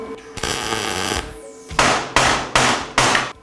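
Hammer striking a warped metal blade, four loud ringing metallic blows in a steady rhythm, close by, preceded by a sustained grinding noise.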